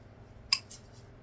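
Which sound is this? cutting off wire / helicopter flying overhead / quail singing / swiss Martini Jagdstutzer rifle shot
cutting off wire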